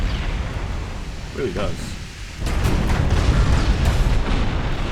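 Battleship turret guns firing in the naval video game Ultimate Admiral Dreadnoughts: a steady low rumble under a short spoken remark, then a sudden heavy broadband boom midway that swells into a loud, sustained roar of battle.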